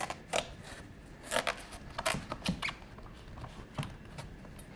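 A knife works through a large seeded vegetable laid flat, giving sharp crunching and cracking snaps in irregular bursts, close but fairly quiet, with no voice.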